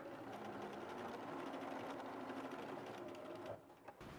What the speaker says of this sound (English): Now put this piece under your sewing machine, fold it in half and sew on the mark through both layers.